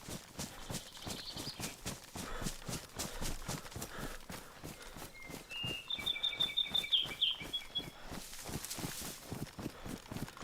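A bird in the DayZ video game on the Chernarus map gives a short run of bright, high chirps over the steady rhythmic crunch of footsteps.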